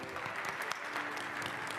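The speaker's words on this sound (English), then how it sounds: "Give yourselves a quick round of applause again." A crowd applauds at a Democratic US Senate candidates' debate in Ohio, giving a brief, even burst of clapping that stays fairly quiet and sounds somewhat distant, heard on its own.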